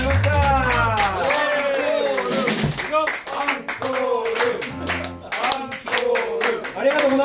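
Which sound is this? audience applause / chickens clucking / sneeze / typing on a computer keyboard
audience applause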